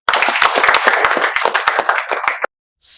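Applause from an audience greeting viewers of a live spoken English class: a burst of many hands clapping close and loud for about two and a half seconds, then cutting off sharply into silence.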